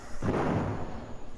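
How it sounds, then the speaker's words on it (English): A gun turret in an Unreal Engine 4 game fires its cannon once, a single heavy boom with a short rumbling tail that fades over about a second, loud and close with no talking. "it will fire the cannon"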